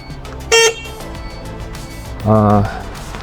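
Two short honks from the horn of a 1200 W FORTE electric cargo tricycle, the first higher and brief, the second lower and slightly longer, over low background hum.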